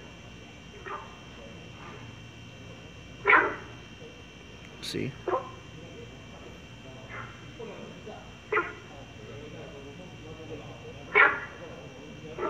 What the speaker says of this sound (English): This is the sound of the frog in Taiwan.